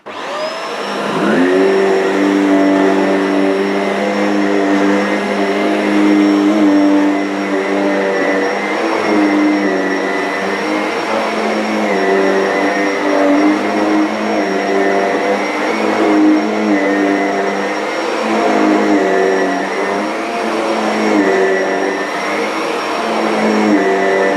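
Shark NV600 upright vacuum cleaner running in carpet mode, a loud steady motor whine with a strong high tone, switching on at the start and droning continuously with slight fluctuations, no talking.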